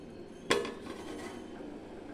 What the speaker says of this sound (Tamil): இப்போ வந்து மூடி வச்சிடலாம்.